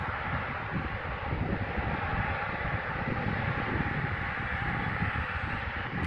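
Steady broadband roar of an airplane engine, continuous and fairly loud throughout with a wind-like hiss and no voices.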